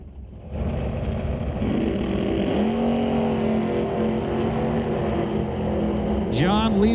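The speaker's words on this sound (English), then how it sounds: "John Tabak in the right lane in his LS-powered Rad S10, lined up next to Fred Hoffman, 67 Chevy Camaro" Drag race launch between an LS-powered S10 and a 1967 Chevy Camaro at a raceway, loud engines roaring and rising in pitch as they pull away, with a second engine sweep near the end and a voice over the top.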